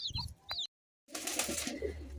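Soft pigeon coos in two short bursts, then a brief silence followed by a busier stretch of cooing and rustling nearby.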